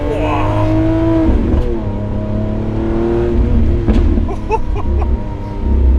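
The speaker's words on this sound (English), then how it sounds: "770 horsepower V12" Lamborghini Aventador SVJ Roadster with a 770 horsepower V12 revving and pulling with the roof open, a loud sustained engine note rising in pitch, close and continuous, with a voice talking over it.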